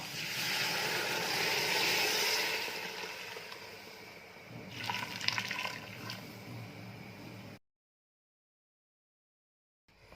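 Hot water is poured into a pan of olive tagine with meat and stirred, a steady liquid pouring and sizzling rush that eases off, followed by a few scraping stirs before the sound cuts to silence.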